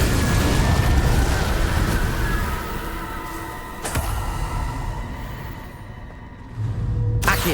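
Incendio fire spell cast in Hogwarts Legacy: a continuous roaring, rushing blast with sharp bursts near the middle and at the end, loud and close.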